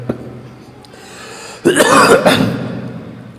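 One person gives a single harsh, close cough that breaks into a couple of rough bursts, rising abruptly out of quiet room noise and fading back down.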